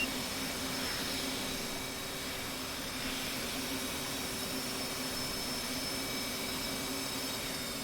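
A fighter jet engine winding down after shutdown in DCS, a loud, steady whining roar with high tonal hum that stays nearly constant throughout.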